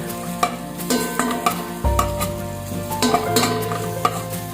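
Ginger drops into onions sizzling in a pan for a mussel soup, setting off a louder burst of frying hiss, with a spoon stirring and clicking against the pan in close, irregular strokes.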